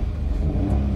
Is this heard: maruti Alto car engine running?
yes